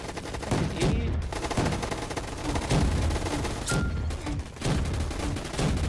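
Dense, continuous bursts of automatic gunfire in the Roblox shooter Gunfight Arena, loud and close with repeated rapid volleys filling the whole stretch and brief gaps between bursts.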